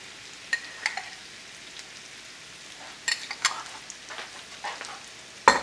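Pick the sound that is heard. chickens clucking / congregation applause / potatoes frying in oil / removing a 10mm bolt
potatoes frying in oil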